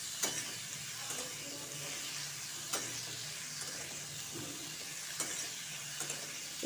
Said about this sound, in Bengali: দেখুন একে একে মূলো, শিম, আলু দিয়ে দিলাম, যে এগুলোকে একটু ভালো করে ভেজে নেব।